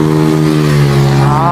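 A motorcycle being ridden home, its engine droning steadily and close with a strong low hum and rising pitch toward the end, continuous throughout.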